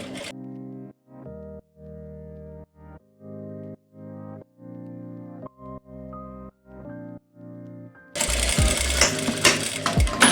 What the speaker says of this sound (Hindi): तो अब मैं दूसरी साइड से सिलाई लगाऊंगा